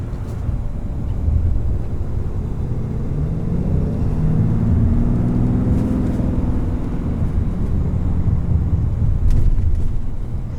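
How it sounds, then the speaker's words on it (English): A 2020 Ram 3500HD pickup with a Cummins diesel accelerates hard, its low engine drone rising steadily under wind and road noise for the whole stretch, heard from inside the cab with no talking. "this is the highest torque number vehicle I've ever driven, and it's quick."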